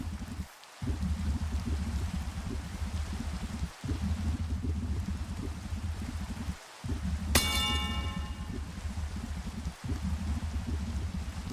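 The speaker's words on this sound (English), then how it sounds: "Soon to be out of the range of the rain." Steady rain in a video game, a continuous hiss with short breaks and a bright metallic chime partway through.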